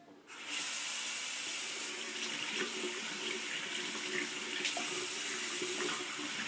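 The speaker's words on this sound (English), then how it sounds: "I'm going to take them and run them in the water." Water pours from a bathroom sink tap in a steady hissing stream, starting abruptly after a brief quiet moment and running continuously, close and fairly loud, with a few faint clicks and bumps against the basin.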